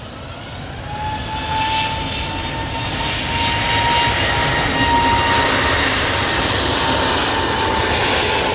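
An Airbus A320neo arriving from Munich at Manchester Airport, a steady broad engine roar that swells slightly and holds loud throughout, with a faint whine riding on top and no voices.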